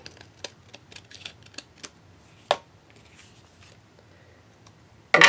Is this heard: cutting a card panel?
yes